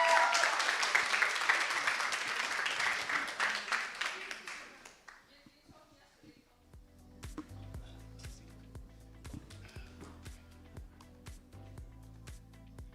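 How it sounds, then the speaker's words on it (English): Crowd applause at a startup challenge grand finale in Cape Town, a dense burst of clapping that fades after about five seconds, followed by music and talk from the stage. "A big round of applause to Black Swan"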